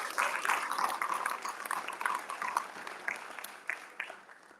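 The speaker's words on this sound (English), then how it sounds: "let's give him another round of applause" An audience applauds at a fraternity chapter monument dedication, a crowd of hands clapping in a lively, uneven patter that surges and then tapers off toward the end, with faint voices mixed in.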